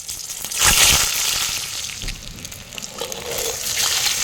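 Eggs fry in oil, a loud close sizzle that flares sharply near the start and settles into a steady crackling hiss, with some scraping and stirring, no voices.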